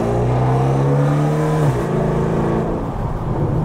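An Audi S5 with a V8 engine runs loud and close, its steady throaty note shifting and dropping in pitch partway through, with no talking.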